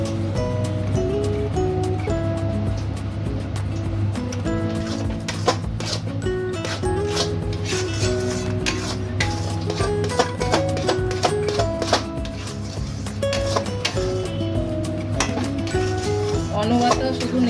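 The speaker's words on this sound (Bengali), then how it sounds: "অনবরত শুধু নেড়েই যেতে হবে এইভাবে যতক্ষণ না ডোটা তৈরি হয়" A metal utensil scrapes and clinks against a pan over and over as grated carrot dough is stirred continuously for carrot langcha sweets, a busy, close rhythm of knocks and scrapes over a low steady hum.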